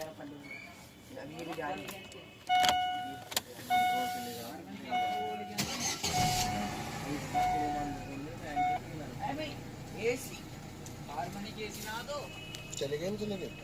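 A Chevrolet Optra with an engine misfire cranks and starts, then settles into a running idle, under frequent talk between people, with beeps and birdsong in the background.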